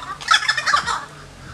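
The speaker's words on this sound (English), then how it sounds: "the birds are talking so much." Birds call outdoors, identified as blackbirds: a lively run of bright chattering chirps and whistles, fairly close and steady for about a second before trailing off, with no talking.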